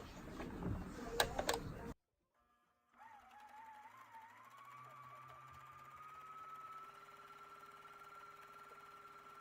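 A sewing machine stitches the front flap of a gingham skirt, starting with a short burst of handling noise, then a pause, then a steady whirring run of the motor, close and fairly quiet.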